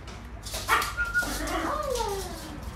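A dog whimpers and gives a couple of short yelping barks nearby, followed by a drawn-out whine, with no talking.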